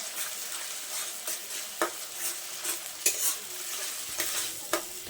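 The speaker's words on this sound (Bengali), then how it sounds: "ধনেপাতাটা দিয়ে একবার খুব ভালোভাবে নাড়াচাড়া করে নেব" Elephant foot yam bhorta being stirred with chopped coriander in a pan, a soft scraping and sizzling texture with several sharp spoon clicks against the pan, steady and close, no voices.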